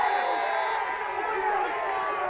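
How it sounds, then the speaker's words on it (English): A crowd at a 2019 Duke vs Utah college lacrosse game cheers in a sustained, moderately loud roar that swells and holds for a couple of seconds. "You hear the cheer from Mackey."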